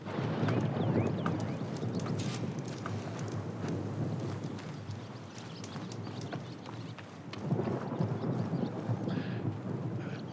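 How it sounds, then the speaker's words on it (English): A thunderstorm in the video game Horizon Forbidden West: steady dense rain with deep rolling thunder, loud and continuous, swelling again near the end, with no voices. "I feel there's a storm brewing."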